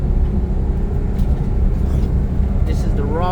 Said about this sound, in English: This is the raw power of this truck.